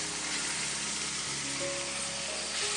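Chickpeas dropped into hot oil in a kitchen, giving a loud, dense, continuous sizzle and crackle that fills the moment, up close and without talk.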